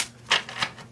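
A deck of playing cards riffles during a card trick, giving two soft, brief papery bursts of flicking cards, quiet and close with no voice.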